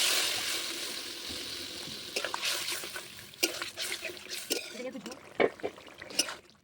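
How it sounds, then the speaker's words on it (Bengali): Water poured into a pan of fried potatoes and spices for a rohu fish curry: a rushing, hissing pour that gives way to bubbling and sizzling with clinks, close by. "এবার জল দিয়ে দেবো"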